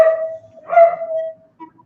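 A dog gives a couple of short, whining, tonal barks close by, followed by a faint brief yip, with no talk over it.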